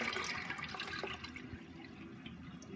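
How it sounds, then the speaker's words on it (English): A half-or-full dual-flush toilet empties with a rushing gush of water that gradually thins into a softer trickle and refill, heard close up with no talking. "So you've got half flush and full flush."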